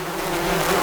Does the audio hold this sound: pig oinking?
no